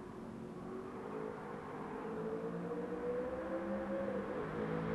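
An Aston Martin V8 Vantage S finishes a time-trial lap on track, its engine holding a steady moderate drone that rises in pitch as it accelerates, then eases slightly, with no talk.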